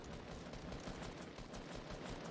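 Rapid gunfire in the Fortnite video game, a dense continuous rattle of shots at low level with no talk over it.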